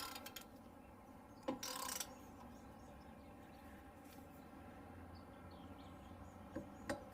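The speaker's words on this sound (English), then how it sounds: "this is a pretty big torque wrench" A large torque wrench tightening trailer hitch bolts, making a few quiet, sharp ratcheting clicks spread across the clip against a low background hum.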